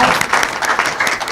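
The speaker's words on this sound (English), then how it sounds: "Let's give him a warm round of applause" A short burst of applause from a crowd, dense clapping at steady volume.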